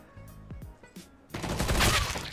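Video game shooter gunfire: a dense burst of rapid shots erupts after a quieter stretch of faint clicks and thuds, then keeps rattling loud and close to the end.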